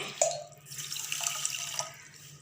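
Water from a tap runs and splashes into a tumbler to make sugar syrup, a short, soft trickle with small bright splashes in a quiet kitchen.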